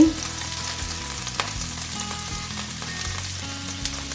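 Chopped white onion hits a hot pan and sizzles steadily, a dense crackling hiss with occasional pops, close and alone without voices, while cooking a cream sauce with salmon and prawns for tagliatelle.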